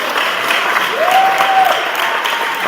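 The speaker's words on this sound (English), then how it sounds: "Let's give them another round of applause." Sustained applause from an audience at a school coronation night for Mister and Miss Cheyney, steady and dense clapping throughout with no pauses.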